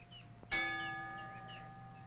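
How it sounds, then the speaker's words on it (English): A single metallic clang from two lengths of rail hanging near a dining room door, struck as a wake-up call, then a long, bright, shimmering tone with many overtones, slowly fading, with faint birdsong behind. "Reveille is sounded on 2 lengths of rail hanging near the door of the dining room."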